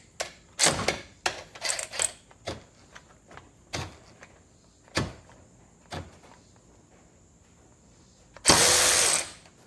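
DeWalt DCF513 cordless ratchet loosening a bolt torqued to 100, giving a run of short close motor whirs and clicks followed by a longer, louder burst near the end, with quiet gaps between.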